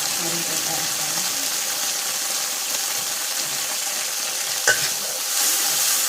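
Food sizzles and hisses steadily in a hot pan during stir-frying before chicken is added, with a few stirring scrapes and a clink near the end.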